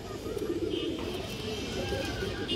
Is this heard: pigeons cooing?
yes